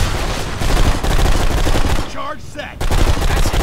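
Gunfire from the video game Blacksite: Area 51 crackles in loud dense bursts that stop briefly midway and then resume, with a voice faintly mixed in.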